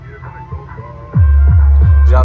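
A home car audio setup run through a sound processor plays music with a deep bass thump that jumps sharply louder midway after the gain is raised, strong low pulses repeating about every third of a second.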